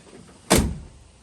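A door on a DIY camper built onto a Jeep Gladiator pickup shuts with a single firm, close thud after a quiet moment, followed by fading background hiss.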